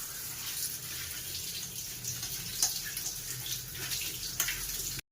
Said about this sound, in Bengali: টমেটোগুলো পরিষ্কার করে ধুয়ে নেবো।